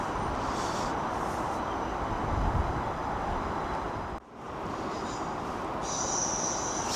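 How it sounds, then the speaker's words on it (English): A passenger train on the London King's Cross to Aberdeen service runs past Manors in Newcastle, giving a steady, loud broadband rumble for the whole stretch with a brief dip midway and a higher whine near the end. "shortly making his way past is going to be the last train of the day"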